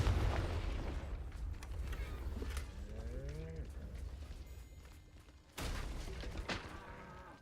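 A Confringo blasting spell explodes in a video game with a rumbling boom that fades over several seconds, then a second sharp blast bursts out, fairly quiet overall, with no voices.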